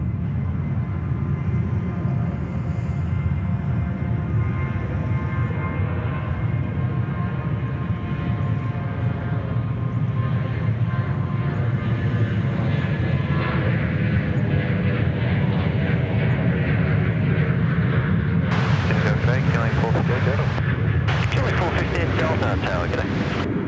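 An aircraft departing Sydney Airport, a loud sustained engine roar with rising tonal whine that holds steady throughout, joined near the end by bursts of wind buffeting on the microphone.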